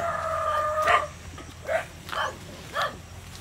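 Roosters crow several times on a rural farm plot, while a dog barks now and then amid outdoor background noise.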